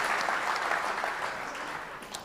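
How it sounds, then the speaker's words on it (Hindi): An audience at an Indian Republic Day kavi sammelan and mushaira gives a steady, dense round of applause, moderately distant and even in level throughout. "एक बार और ज़ोरदार तालियों से इस्तकबाल कीजिए इतनी हसीन शायरी का।"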